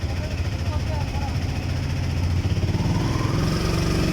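Motorcycles on a tour ride past on a road toward Bandarban, their engines giving a steady, loud rumbling drone throughout.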